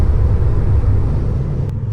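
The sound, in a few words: Tesla Model 3 Standard Plus road and tire noise while driving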